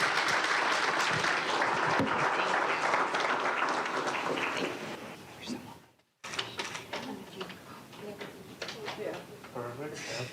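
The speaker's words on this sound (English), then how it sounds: "So let's give a round of applause to our Queen of Waste" Applause from a group at a commissioners' agenda meeting, a dense steady clapping that fades after about five seconds, followed by scattered noises and people talking.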